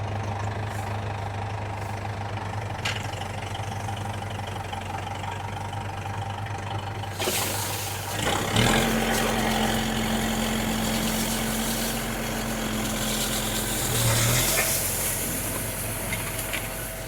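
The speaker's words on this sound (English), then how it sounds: "Now what a hay tedder typically does is, as you can see, it just spins and flips out the hay." A tractor-driven four-basket hay tedder runs steadily, its engine and PTO drive droning low and continuous, with a rising whir and rattle about halfway through as the baskets spin and flip hay; no talking.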